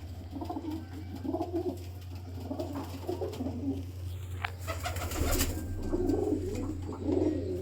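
Soft pigeon cooing repeats in low, rolling phrases over a steady hum, with a brief rustle midway; no talking.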